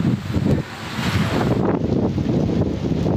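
Strong wind with rain in Haripur city roars continuously and loudly against the microphone in heavy, gusting rushes, with no voices.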